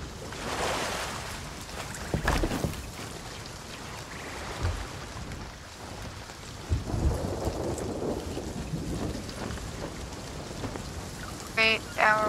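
Thunderstorm with rain at sea in the video game Sea of Thieves, a constant rush of rain and water with repeated low thunder rumbles and crackling bursts, loud and close.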